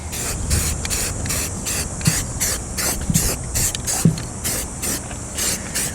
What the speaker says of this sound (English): The rifle's already prepped, can's already shook. Let's get to painting.